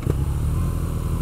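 BMW R nineT motorcycle engine heard while riding, a loud, steady low rumble that holds even throughout.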